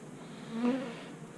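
A single bee buzzes close by at a beekeeping hive, a short droning hum that swells and fades.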